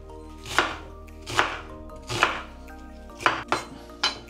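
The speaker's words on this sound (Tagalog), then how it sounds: "Sibuyas, iwain mag sibuyas." An onion being cut with a knife on a board: six sharp, evenly spaced chops, close and distinct, with quiet pauses between them and no talk.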